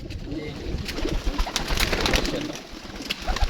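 Champion pigeons coo loudly and close up, a dense, continuous overlapping murmur with a few sharper flutters and no talking.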